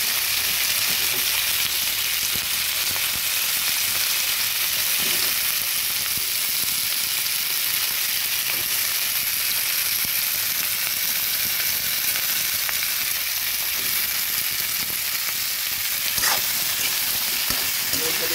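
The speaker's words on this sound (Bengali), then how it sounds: "কাজের সুবিধার্থে আমি আলুগুলো দিয়ে দিচ্ছি, একসঙ্গে ভেজে নেব" Potatoes frying in hot oil in a pan make a loud, even, continuous sizzle that stays steady from start to finish, with no voices.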